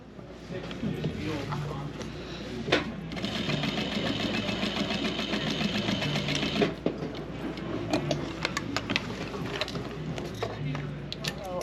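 A sewing machine runs a straight stitch joining a sweatshirt neckband, a steady mechanical whir with rhythmic clatter that speeds up in the middle, while a voice talks over it.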